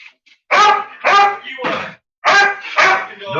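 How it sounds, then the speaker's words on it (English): A pet dog named Patches barking loudly and close by, five sharp yapping barks in two quick bursts with a short pause between them. "No one likes a barking dog, Patches."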